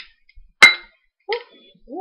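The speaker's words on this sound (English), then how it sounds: "luckily I didn't break the glass" A drinking glass knocked over in a kitchen gives one sharp, bright clink that fades quickly, followed by a short softer knock and a faint noise at the end.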